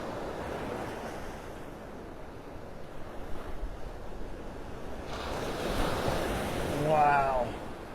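Big ocean waves break on a beach on a stormy morning, making a continuous roaring wash of surf with gusts of wind on the microphone and a swell that builds toward the end.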